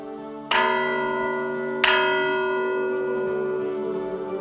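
Two loud, resonant church tower bell strikes about a second apart in Ferreira do Zêzere, Portugal, each ringing out with a long, shimmering decay.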